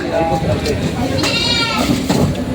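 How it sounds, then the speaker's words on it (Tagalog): Cattle and water buffalo bleat and call as they are unloaded from a truck at a livestock auction market in Lucena, Quezon, amid a noisy crowd of people talking over the commotion. "binababa na po nila yung mga kalabaw at bakang galing Bicol"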